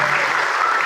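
Audience applause at a community organization gathering, a steady dense patter of many hands clapping at close range, sustained and even throughout with no voices over it.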